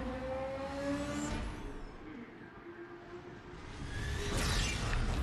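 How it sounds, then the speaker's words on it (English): Race car engine and whooshing pass-by sounds from the Need for Speed video game showing a BMW M3 GT on an iPad, rising and falling revs at moderate to faint level. "And what better game than Need for Speed?"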